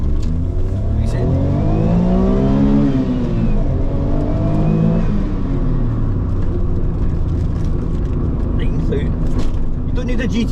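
A BMW M140i engine revs up and down in loud rising and falling sweeps, heard from inside the car, then settles into a steady drone with faint rattles and road noise.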